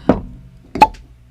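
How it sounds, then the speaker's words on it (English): Cork popping out of a newly opened bottle, two close, sharp plops about a second apart, loud against near silence. "pause for cork pop"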